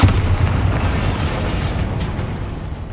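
A Bombarda blasting spell erupts in Hogwarts Legacy, a loud, close boom whose rumbling burst fills the moment and slowly fades over a few seconds, with no voices.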